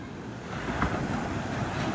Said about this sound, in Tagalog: Medyo galit yung dagat.